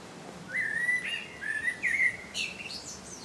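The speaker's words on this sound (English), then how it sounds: "Beautiful song, blackbirds." A blackbird sings from a tree in a garden, a clear sequence of fluting whistled phrases rising and falling, fairly near and bright over quiet background, with no talking.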